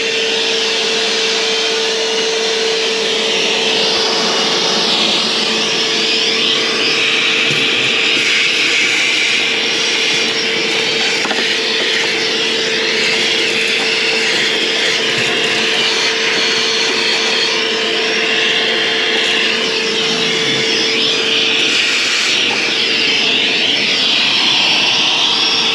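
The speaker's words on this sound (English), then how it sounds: "Suck all the rust up here" Steady loud roar of a vacuum cleaner sucking up rust inside a 1969 Ford XL convertible, continuous and close throughout with a constant whine.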